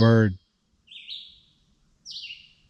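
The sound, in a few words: birds chirping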